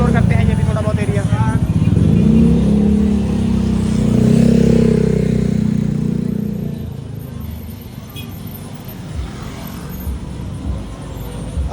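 Busy night traffic on a street in Bangkok's Chinatown, with a steady roar of cars, buses and motorcycles passing close by and engines revving, loud and continuous throughout.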